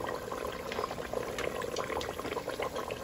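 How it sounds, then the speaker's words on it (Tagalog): Sweet potato leaf snack bubbling and sizzling in boiling cooking oil, a soft continuous fizzing with small pops, fairly quiet and close. "Kailangan nakababad po siya. Sa kumukulong mantika."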